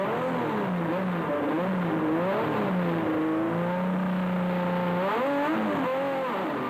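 Rally trucks, including a Ford Ranger, rev their engines at the start line of the 2004 Mafikeng 500, with loud engine notes that rise and fall in repeated surges, close and sustained.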